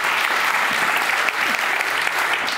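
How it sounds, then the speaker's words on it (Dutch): A hall audience gives a warm welcoming round of applause for columnist Massi Houtak, a dense, steady wash of many hands clapping loudly throughout, without speech. "Geef hem een warm applaus."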